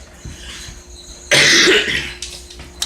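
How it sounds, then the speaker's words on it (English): A single harsh, loud cough bursts out after a quiet moment, lasting under a second, followed by faint background hum and a small rustle. "I'm sorry for all the coughing."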